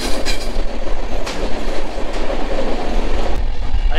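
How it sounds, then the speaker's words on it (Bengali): A train rolls slowly through forest in the Dooars region near Sevoke, the carriages giving a loud, steady rumble with rhythmic wheel clicks and occasional brief squeals, heard from on board. "ট্রেন কিন্তু একটা লিমিটেই যায়, বেশ আস্তে আস্তে যাচ্ছে।"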